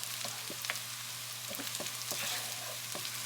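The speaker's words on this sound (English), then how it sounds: "what we want is to stir everything in, break up any clumps of rice" Egg fried rice with ghee sizzles steadily in a pan nearby as it is stir-fried, and a utensil scrapes and taps through the rice in irregular strokes.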